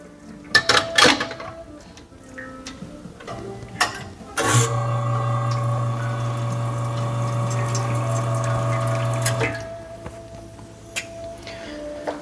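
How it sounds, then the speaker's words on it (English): A Lelit Bianca V3 espresso machine dispenses hot water from its spout. A steady pump hum and water stream run for about five seconds, with cup and utensil clatter before and after. "I'm gonna put some water from the hot water spout"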